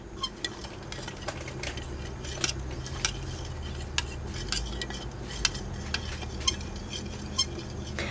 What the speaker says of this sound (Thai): คนคนก่อนนะคะ แป้งของเราเขาจะนอนก้นนะคะ